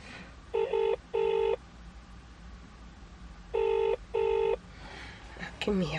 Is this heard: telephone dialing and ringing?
yes